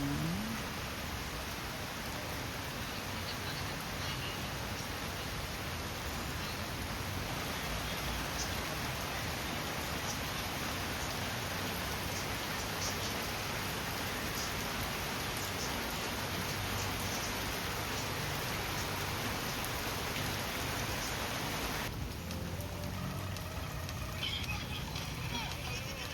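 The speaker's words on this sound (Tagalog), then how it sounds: "Ulan na naman kasi." Rain falling steadily during a flood, a dense, even wash of patter heard for the whole stretch, with speech faintly present underneath.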